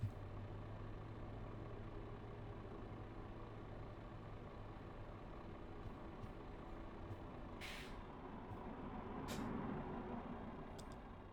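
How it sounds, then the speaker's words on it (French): A truck rolls forward by itself, its low engine hum steady and quiet, with a couple of sharp air-brake hisses near the end. "il avance tout seul ce camion là"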